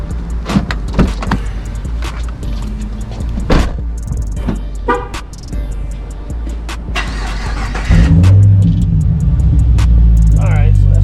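A 2014 Chevrolet Caprice PPV with its mufflers cut off and a straight pipe rumbles loudly nearby, with sharp bangs and knocks before a deep, heavy rumble swells near the end; voices talk over it.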